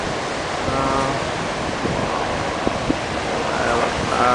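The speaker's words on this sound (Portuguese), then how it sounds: "Olha o tamanho das ondas." Big ocean waves rolling and breaking at the Pipeline surf beach in Hawaii, a steady loud roar of surf blended with wind noise across the whole stretch.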